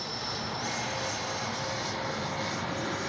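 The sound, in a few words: RC Freewing MiG-29 jet flying by for landing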